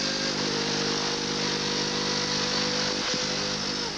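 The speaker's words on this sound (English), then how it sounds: "I like the sound of that engine so much." Onboard a 1990 Formula One race car lapping the French Grand Prix circuit, the engine holds a steady, high-pitched screaming whine at full throttle, loud and close, with a brief dip in pitch near the end.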